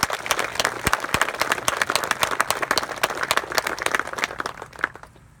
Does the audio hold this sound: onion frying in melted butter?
no